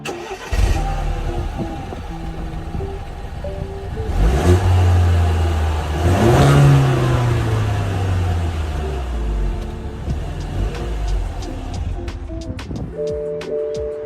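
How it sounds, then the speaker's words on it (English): A BMW 1 Series engine on its stock exhaust starts and then revs in a couple of rising, falling sweeps, close and fairly loud, settling back to a steady idle between pulls. "I'll check in a few clips here of what my car sounded like before I got my exhaust done"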